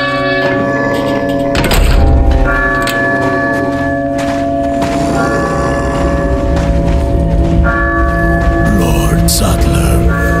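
A church bell rings for prayer in the video game Resident Evil 4 Remake, with sustained ringing tones layered over thuds and other game sounds, fairly loud throughout, and voices occasionally present.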